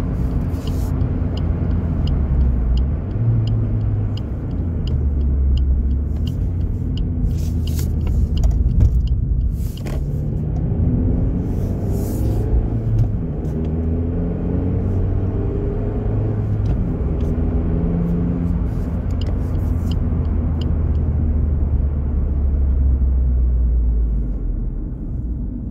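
A Suzuki Swift Sport Hybrid (ZC33S, K14C engine) with its hood insulation removed idles steadily at close range, giving a continuous low rumble with light mechanical ticking above it and no talk.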